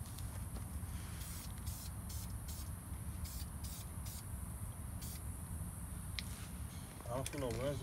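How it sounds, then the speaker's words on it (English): Red spray paint hissing from an aerosol can onto brake parts of a Nissan 370Z during a rotor and pad job, a steady close spray with short bursts and pauses, voices chatting faintly under it. "Spray the other one, let it dry, and maybe another coat"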